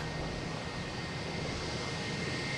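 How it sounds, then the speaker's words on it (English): A loud propeller plane, likely a Cape Air flight at Logan Airport, drones steadily as broadband engine noise with a faint tonal hum, continuous and unbroken throughout with no voices. "I hear a loud prop plane"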